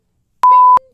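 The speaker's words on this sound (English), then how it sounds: "Oh, you're going to do the beep." A single censor beep sound effect, a steady pure tone lasting about a third of a second, loud and alone, with a brief voice fragment underneath.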